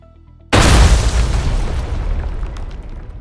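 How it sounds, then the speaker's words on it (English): After a moment of quiet, a sudden loud explosion booms, its deep roar sustaining and slowly fading with crackling debris. "At that very moment, there was an explosion."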